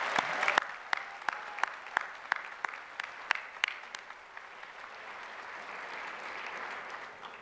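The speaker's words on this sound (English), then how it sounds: "How about one more round of applause for our master's students?" Commencement audience at a College of Science ceremony applauds master's students. Sharp, rhythmic claps come near and distinct at first, then settle into a softer, steady wash of crowd applause that carries on to the end.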